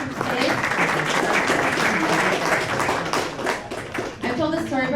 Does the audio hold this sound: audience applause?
yes